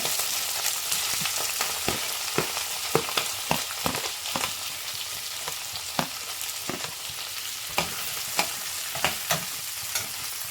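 Green chillies and onion sizzle steadily in a hot pan, with a run of sharp, regular scrapes and clinks as they are stirred, close and clear, with no talking.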